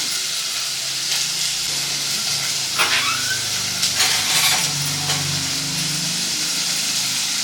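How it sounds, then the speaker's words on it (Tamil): A pot of rice boils on the stove in a home kitchen while fish curry is being made, giving a steady loud hiss and bubbling with brief clinks and stirring sounds over it. "இந்த சாதம் வந்து கொதிச்சுட்ருக்கு"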